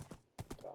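Horse hooves clip-clop in the Minecraft video game, a few quick, quiet hoofbeats in a brisk trotting rhythm, heard alone.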